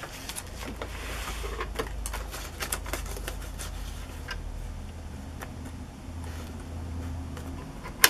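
A sewing machine runs a straight stitch through paper on a junk journal embellishment, giving a steady mechanical rattle with rapid ticking needle strikes, close up and continuous.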